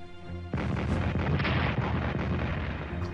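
Heavy artillery fire from the World War I strategy game Strategic Command, Entente 1914 campaign: a dense, loud barrage of overlapping booms and rumbling blasts starts abruptly and continues steadily without any talk.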